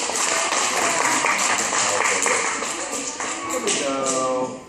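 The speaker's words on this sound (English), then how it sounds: "Everyone clap for her." A group of children clap for a girl in a classroom talk about seaweed, a dense burst of rapid hand claps lasting throughout, with some voices mixed in.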